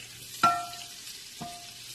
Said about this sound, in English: you do want to turn down your heat while you're melting this butter so that it does not burn